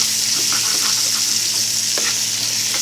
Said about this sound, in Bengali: তেলের মধ্যে মাছগুলো ভেজে এখন দিয়ে দিলাম